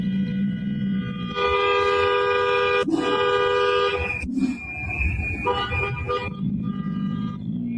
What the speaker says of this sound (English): Oh, that horn.